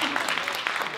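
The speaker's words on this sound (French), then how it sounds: "ils applaudissent à peu près autant que pour Clamp" Audience applause at a convention talk during a Japan culture festival, a dense steady wash of many hands clapping at once, filling the whole moment without voices.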